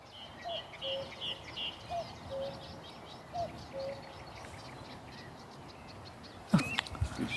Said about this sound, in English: I just want you to listen to this cuckoo